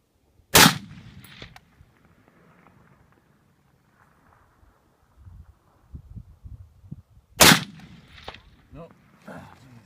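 Two loud, sharp M1 Garand rifle shots at steel targets 200 yards downrange, several seconds apart, each followed by a short echoing tail. Quiet outdoor range ambience and faint handling noises fill the gap between them.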